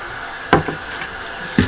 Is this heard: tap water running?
yes